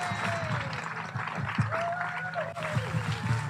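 Applause from the audience at a Huntington Beach city event, a moderate spread of clapping that runs steadily, with whistles and faint crowd noise mixed in.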